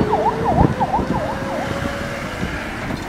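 Emergency ambulance siren wailing in a rapid repeating yelp pattern, part of a Syrian medical relief ambulance service doing fast evacuation from hot spots in Hama and Idlib, heard fairly close with steady traffic-like background noise.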